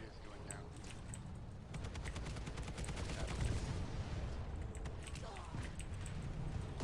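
Booming cannon fire from a large gun in the sci-fi shooter Planetside 2 rumbles under a steady, dense din of gunfire and battle noise, with rapid crackling shots layered throughout.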